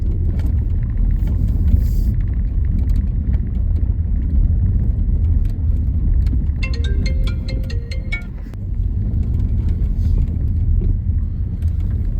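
A car drives along a village road, its engine and tyres giving a steady, close rumble from inside the cabin, with a brief rattle partway through and no talk.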